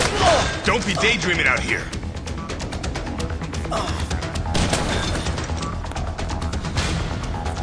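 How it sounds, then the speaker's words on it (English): Gunfire rattles from the floor above in Dead Rising, a loud burst of shots at the start followed by scattered cracks and thumps through the rest, with a voice speaking briefly early on. "Someone shooting from the floor above."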